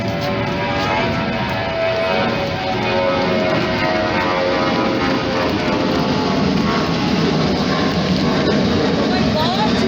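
A loud aircraft passes low overhead, a dense, steady roar that fills the whole ten seconds without fading, with voices partly buried beneath it.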